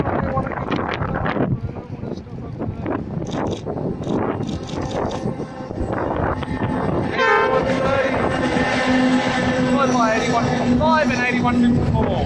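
A grain train passes at a rural station, with wind buffeting the microphone and a low rumble building into steady wheel clatter and a sustained horn-like tone as the wagons roll by.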